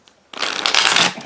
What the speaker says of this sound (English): Okay, now let me draw some cards. Shuffle a little bit.